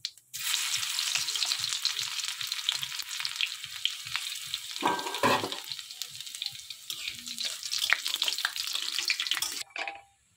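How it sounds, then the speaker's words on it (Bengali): Dried red chillies, whole cumin seeds and crushed garlic crackle in hot oil for a spice tempering, a steady, close, dense sizzle running unbroken for about ten seconds before stopping abruptly. "ফোড়নের জন্য দিয়ে দেব শুকনো লঙ্কা, গোটা জিরে, রসুন থেঁতে নিয়েছি সেটা দিয়ে দেব"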